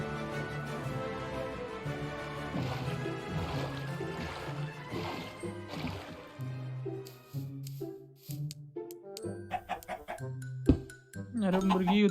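A chicken clucks in a Minecraft-style pirate survival game, with short clucks over steady game music and background tones, in the foreground and moderately loud.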